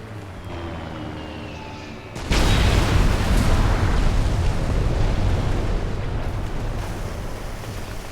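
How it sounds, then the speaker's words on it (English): Airstrike explosions hit a building in the Mercenaries 2 video game: after a quieter rumble, a sudden loud blast erupts and settles into a sustained, heavy roaring rumble of debris and fire. "Okay, so you call an airstrike on the building."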